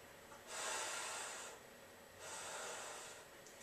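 Two strong, forceful breaths in a yoga session, each a long airy rush through the nose or mouth with a brief pause between, close and steady with no talking.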